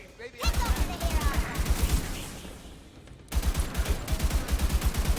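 Rapid pistol fire in the video game Tiny Tina's Wonderlands, with a steady rhythmic run of shots that pauses for about a second and then resumes at the same quick pace over a busy game soundscape.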